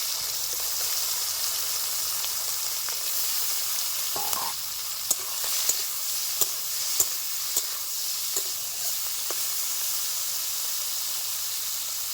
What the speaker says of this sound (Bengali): হলুদ লবণ মাখিয়ে মাছগুলি আমি ভেজে নেব।